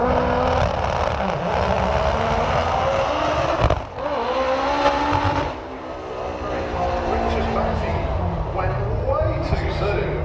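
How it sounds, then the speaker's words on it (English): Citroen AX drag racing car at a Santa Pod doorslammer event, engine roaring loud and sustained across the run, with a brief dip midway and crowd voices talking over the noise. "That Citroen AX is just too quick"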